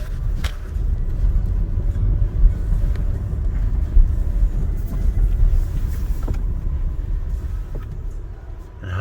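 A Vietnamese electric car, quick enough to reach 60 mph in about 3.1 seconds, takes a corner, heard as a steady low rumble of road and tyre noise from inside the cabin, with no voices.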